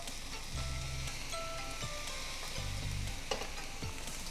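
Fried rice with pork cracklings sizzles steadily in a pan while being stir-fried, a constant close frying hiss with occasional scraping of the spatula.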